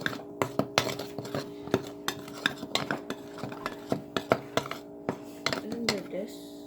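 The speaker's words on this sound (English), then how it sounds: "Mix all that together." Pancake batter with a sprinkle of cinnamon being mixed in a bowl, a utensil clinking and scraping against the sides in quick, uneven strokes, close and fairly clear with no voice over it.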